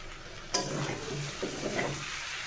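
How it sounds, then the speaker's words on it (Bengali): Beef fries with bay leaves and garam masala in a pot, a spoon scraping and stirring through a soft, continuous sizzle with a sharp clink at the start and a few light knocks. "এগুলো দিয়ে আমি আর একটু নেড়ে ছেড়ে ভালো করে মাংসটা কষিয়ে নিব"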